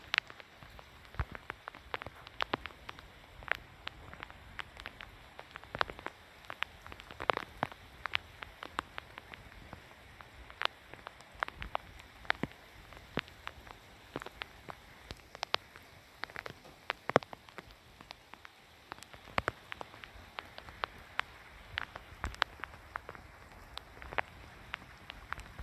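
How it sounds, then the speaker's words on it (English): Scattered raindrops patter and tick on a hard surface, irregular and fairly close, with a faint background hiss and no voices. "It's raining right now"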